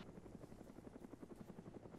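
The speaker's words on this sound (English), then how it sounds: "Chopper." Helicopter in the video game Arma flying nearby, a steady loud rhythmic rotor chop with a dense whooshing hum throughout.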